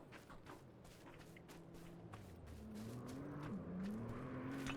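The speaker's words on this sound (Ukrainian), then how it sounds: "О, щось їде. От їде мотик." A motorcycle engine drone gradually rises in pitch and loudness as it draws closer in PUBG, mixed with game background noise.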